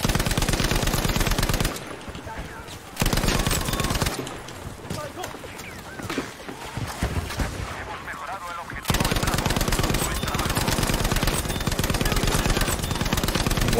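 A Lewis machine gun in Battlefield V hammers out long, steady, close automatic bursts at the start and end, with a quieter middle stretch of sparse shots and someone talking.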